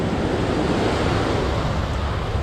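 Rough ocean surf on South Beach, Miami, a loud, steady wash of breaking waves with wind noise buffeting the microphone throughout.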